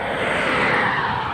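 A walking tractor engine drones steadily and loudly as it hauls a heavily loaded cassava cart up a paved slope, one of several such tractors travelling together, with no break in the sound.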